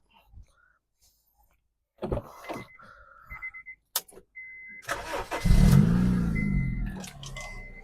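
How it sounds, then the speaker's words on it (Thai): A Honda Civic FD engine cranks and catches on the first try, then settles into a steady idle close by, after some brief clicks and thumps. "สตาร์ททีเดียวติดเลยนะครับ"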